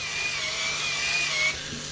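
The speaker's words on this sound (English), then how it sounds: "This is the Dremel Versa" A Dremel Versa power scrubber with a pad hums steadily at close range while cleaning a dingy gray hat, a continuous high whine that cuts off abruptly near the end.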